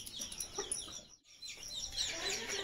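Backyard rooster and hens clucking near a pigeon loft, several short, scattered clucks and chirps close by over background noise, with a brief drop to near silence midway.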